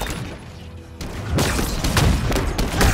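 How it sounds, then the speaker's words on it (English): Cannon fire in Halo Infinite multiplayer, Fiesta mode on the Fracture: Tenrai event, erupts as loud booming blasts in a dense cluster after a quieter opening, amid heavy battle noise. "he had like some kind of cannon"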